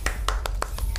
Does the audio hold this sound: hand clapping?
yes